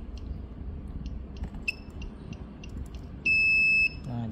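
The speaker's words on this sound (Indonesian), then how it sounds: "akan bunyi ya seperti multimeter pada umumnya" A portable phone-repair multimeter on continuity test gives one clear, steady electronic beep of under a second, sounding over faint handling clicks and room noise.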